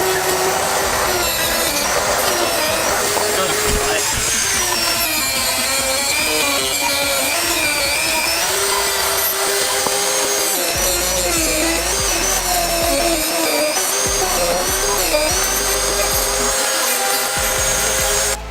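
A power tool cuts off the plastic bumper tabs on a Subaru BRZ during a front splitter install, giving a continuous, close, harsh grinding and rasping that holds steady for about eighteen seconds.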